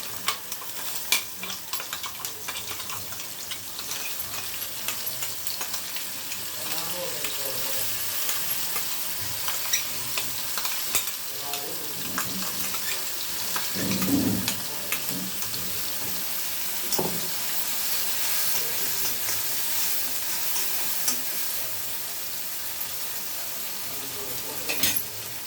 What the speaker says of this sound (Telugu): పండుమిర్చి పేస్ట్, ఇది ఆయిల్లోకి వేస్తున్నానండి.